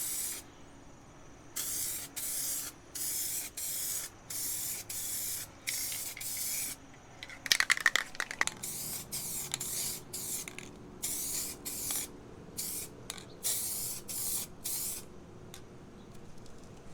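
Aerosol spray paint laid onto car parts in even coats, a series of about a dozen short hissing bursts with brief gaps, fairly close and moderate in level over a quiet room.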